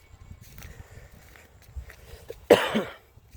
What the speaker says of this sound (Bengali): শীতের দিন, খুশখুশি কাশি হওয়াটাই স্বাভাবিক।